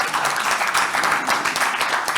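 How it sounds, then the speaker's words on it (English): A room of conference attendees claps together for a committee, a dense steady patter of many hands that stays fairly loud for a couple of seconds. "let's applaud them"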